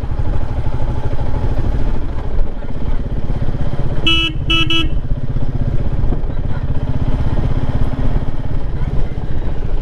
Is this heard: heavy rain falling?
no